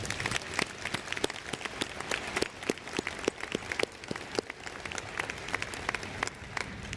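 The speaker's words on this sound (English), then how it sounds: "Please give them a round of applause." Sparse, scattered clapping from a convocation audience at a university honoring student leaders, individual claps distinct and steady throughout, moderately distant with no voices over it.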